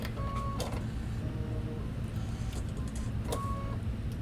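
An embroidery machine stitches appliqué letters for a tile scene, a steady rapid mechanical hum and patter with brief higher tones and occasional clicks, close and continuous without talk.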